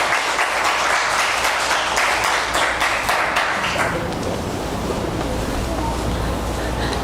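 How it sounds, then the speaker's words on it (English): An audience at an India Independence Day celebration applauds after a performance, a dense burst of clapping that fades to softer, scattered claps and room noise after about four seconds. "One more round of applause for him."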